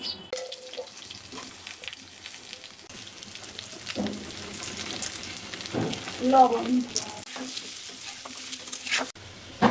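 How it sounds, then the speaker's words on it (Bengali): Quiet sizzling of potatoes frying in oil for a fish curry, with intermittent stirring clatter and faint background voices. "আলুটা সুন্দর করে ভেজে নিয়েছি"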